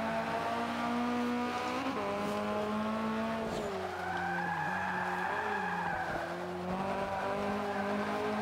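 In the Forza 5 racing game, a 2013 Toyota GT86 in B class squeals its tires under hard braking over a steady, droning engine, with the screech rising and falling through several long skids.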